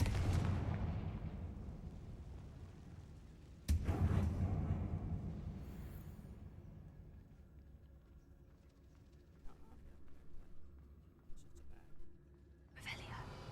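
In a Harry Potter video game mine, a Confringo explosion spell lands as a sharp booming blast after a softer opening thud, followed by quiet rumbling and faint footsteps.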